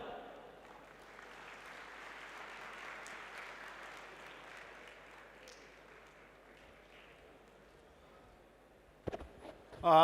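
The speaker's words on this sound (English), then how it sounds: "A huge round of applause for sir." An audience at a session for future chartered accountants claps for a council member about to give concluding remarks. A broad, even wash of clapping fades gradually, then a few close knocks and a voice arrive at the end.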